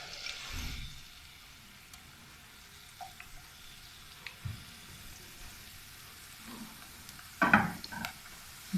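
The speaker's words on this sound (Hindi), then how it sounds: "थोड़ा सा लहसुन को फ्राई कर लेते हैं।" Chopped garlic frying in hot oil in a home kitchen, a faint steady sizzle with soft stirring scrapes and a few louder clinks near the end.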